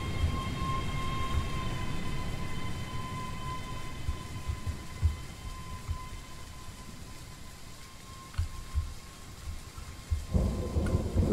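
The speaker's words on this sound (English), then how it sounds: "I'm mesmerised by the sound of the thunder." Rolling thunder and steady rain in Train Sim World 4 on the Edinburgh to Glasgow line, low rumbles swelling in several separate bursts over constant rainfall and a faint steady train hum.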